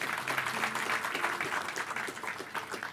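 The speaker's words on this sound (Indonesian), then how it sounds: "GSKI Kebon Jeruk, tepuk tangan." Church congregation at GSKI Kebon Jeruk clapping, a dense, steady spread of many hands applauding throughout, moderately loud and fairly near, with no voices standing out.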